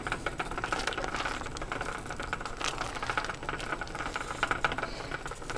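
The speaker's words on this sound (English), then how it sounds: "Make sure that's a true boil here. Let me stir it all up and scrape the bottom real good" Juice and low-sugar pectin jelly bubbling at a rolling boil in a pot as it is stirred and scraped, a soft continuous patter of pops and rattles heard close up, with no talk.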